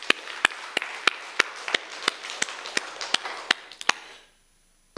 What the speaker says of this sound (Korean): 여러분 그 하나님께 우리가 감사의 또 영광의 박수를 드리겠습니다